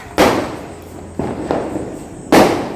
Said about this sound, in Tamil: கலர் வெடி அழகா இருக்கு.